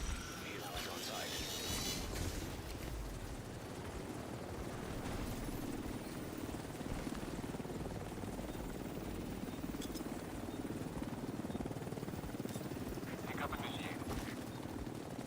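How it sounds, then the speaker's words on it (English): A helicopter arrives in The Division 2, a steady whirring rotor drone filling the background with scattered gunfire bursts under it, and talking can be heard. "Helos on site."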